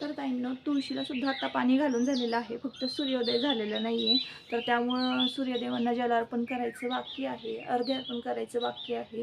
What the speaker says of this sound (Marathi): खूप खूप मस्त पाखरांचा आवाज येतो आहे